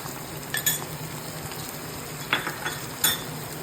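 Prawn roast masala with chili flakes and turmeric sautés in a pan in a Kerala-style kitchen, giving a steady sizzle with a few sharp clinks and scrapes of a utensil against the pan.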